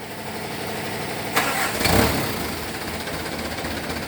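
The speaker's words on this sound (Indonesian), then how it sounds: "mesin udah saya hidupin ya" An engine cranks and catches with a short rising burst, then settles into a steady, even idle hum.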